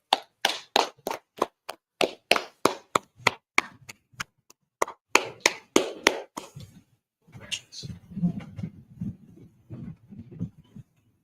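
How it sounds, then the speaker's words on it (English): Group clapping in a fast, even beat of sharp claps for about six seconds, then breaking off as a voice speaks over a low murmur. "Clap it up. Clap it up."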